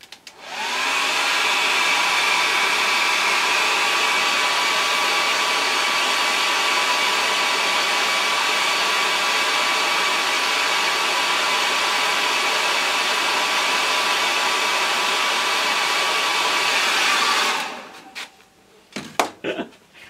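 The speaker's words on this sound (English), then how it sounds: "let's put a hairdryer on it anyway" A hair dryer blows at full power onto a small wind turbine rotor built from an old tumble dryer part, a loud, steady whooshing roar with a constant whine that cuts off abruptly near the end, leaving brief clatters.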